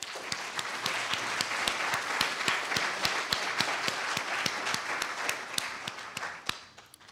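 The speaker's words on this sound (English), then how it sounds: "Let's please give our sponsors a big round of applause." Audience at a college entrepreneurship competition applauding the event's sponsors, a moderate crowd clapping steadily with a few sharp, distinct claps standing out throughout.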